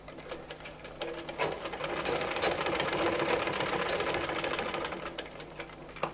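A sewing machine stitches baby fotua fabric in a steady, continuous rapid hum-and-clatter, close and even, running nearly the whole time.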